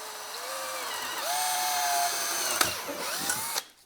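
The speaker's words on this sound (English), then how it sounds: "we're going to drill a hole that we'll put in a 1/4 inch bolt" A power drill whines steadily while drilling a hole for a 1/4 inch bolt in a CNC tramming jig, pitch rising as it bites in, then a few short bursts and clicks before stopping.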